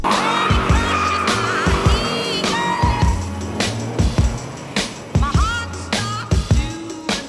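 A red car's engine revs and drops repeatedly with tire squeals as it rounds a corner, loud and close, with sharp thumps between revs.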